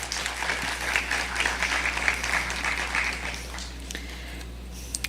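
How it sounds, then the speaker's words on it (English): An audience at a school play applauds, steady dense clapping that thins and tapers off toward the end, with a few scattered later claps. "So another round of applause for her."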